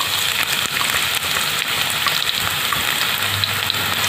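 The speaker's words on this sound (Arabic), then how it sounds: "بعد ما الزيت سخن هحط البصل" Onions sizzle in hot oil in a wok, a steady loud crackling hiss with scattered pops throughout, close to the listener and with no talk over it.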